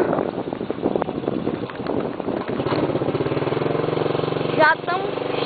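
A lowered motorcycle engine hums steadily over bumpy road, with wind buffeting the microphone and people talking throughout; a brief sharper burst rises near the end.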